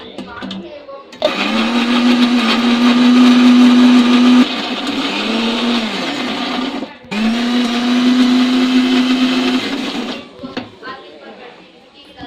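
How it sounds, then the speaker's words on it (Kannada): A mixer grinder blends tamarind with a little water into chutney, giving two long, loud motor whines with a steady pitch, each several seconds, separated by a brief drop in speed and followed by quiet clatter. "ಸ್ವಲ್ಪ ನೀರು, ಸ್ವಲ್ಪ ಮಿಕ್ಸಿಗೆ ರುಬ್ಕೋತೀವಿ."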